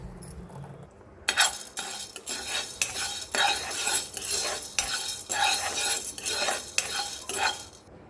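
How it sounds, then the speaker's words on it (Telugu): Jowar (sorghum) grains poured into a pan and stirred, scraping and clinking of a spoon against the metal in repeated strokes with a faint sizzle underneath, close and alone. "ఇప్పుడు పేలాలు వేసి చూద్దాం."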